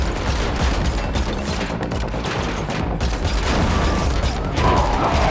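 Gunfire in the Matrix Awakens Unreal Engine 5 demo, dense rapid bursts of shots and impacts packed into a loud, continuous barrage with no pauses.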